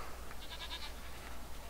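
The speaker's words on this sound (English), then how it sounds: "Goats!" Goats in the Jade Empire video game give a short series of quick, thin bleats, fairly faint over a steady low background hum.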